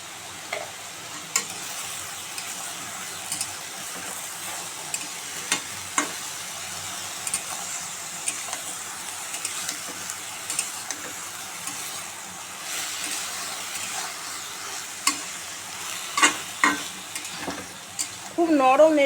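Salted sponge gourd fries in a pan while being stirred, giving a continuous sizzle with repeated clattering scrapes of a spatula, louder knocks near the end, and no voices.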